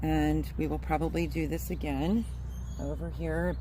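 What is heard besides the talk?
No everyday noises stand out.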